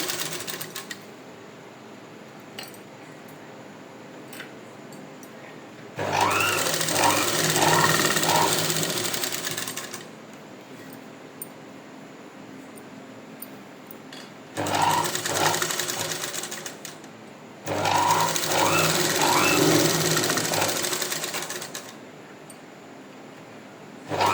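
A sewing machine stitching fabric piping in a boutique tailoring setup, running in steady whirring bursts of a few seconds each, separated by quieter pauses with a low background hum.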